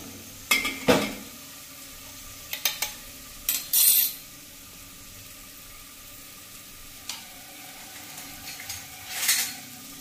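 A spoon scrapes and clinks in a pot of rasam with softened tomatoes, stirring in a few separate bursts over a quiet simmering sizzle, close by and with no one talking.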